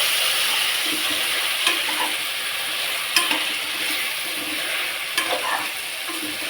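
Carrots, beetroot and peas for vegetable rice stir-frying in a pan, a steady close sizzle with occasional scraping stirs and clinks, with no talking over it.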